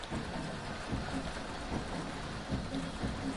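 Light rain falls in a racing video game, a soft, steady wash of hiss with faint low rumbles, quiet and continuous with no voices.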